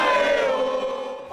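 A football stadium crowd of Portuguesa fans roars as one sustained, dense chant-like wall of voices, loud and steady throughout before dipping briefly at the end.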